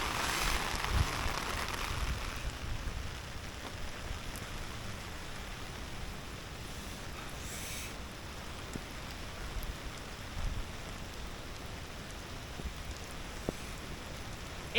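Rain patters steadily on an umbrella overhead as a dense, close hiss of drops, with scattered louder taps and no voices throughout.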